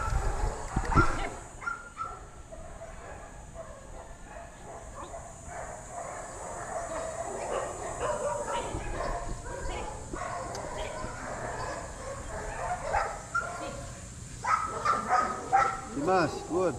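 A tired dog at a training session barks, yips and whimpers repeatedly at close range, its sounds coming in uneven bursts mixed with people talking nearby.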